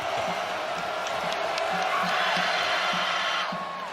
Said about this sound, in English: Crowd voicing their displeasure with the foul in general.